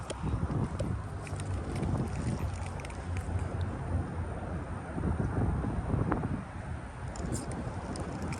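Wind blowing at a fishing pond, a steady loud rumbling roar of gusts buffeting the microphone throughout, with no talking.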